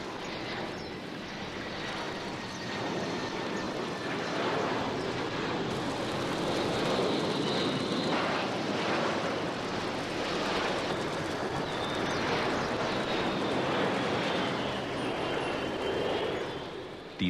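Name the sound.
airplane flying low overhead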